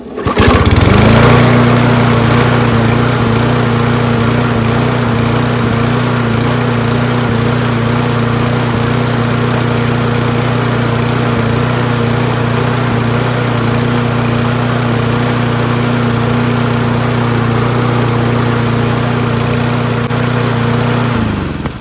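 A Toro Recycler XT675 lawn mower with a Kohler engine starts and runs for about twenty seconds, a loud, steady, close mechanical drone with constant pitch and no voices.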